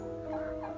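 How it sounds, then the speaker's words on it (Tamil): A turkey gobbles at a bird park in Kandy, Sri Lanka, a short warbling call at moderate distance over steady outdoor background. "இது வான்கோழி."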